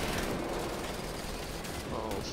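Rapid gunfire in the shooter game Wolfenstein: The New Order, a continuous dense rattle of shots running through the whole short stretch at a fairly low level.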